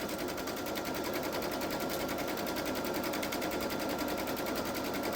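A Babylock Solaris sewing machine stitches through a fabric pillow with batting, producing a loud, continuous rapid mechanical hum and buzz that stays steady and close for the whole stretch.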